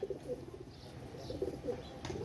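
A Nil Dumba pigeon gives soft, low coos in short bursts, fairly quiet and close against a faint room hum.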